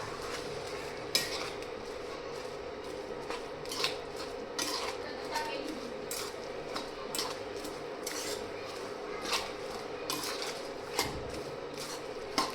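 Soaked puffed rice is stirred into sour buttermilk for bhel, a spoon clinking and scraping against the bowl in quick, irregular strokes, close and steady for several seconds.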